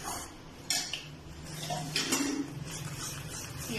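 A spoon mixes coconut powder and sugar in a bowl, producing light scraping and clinking against the dish, with a few sharper taps, close and fairly quiet.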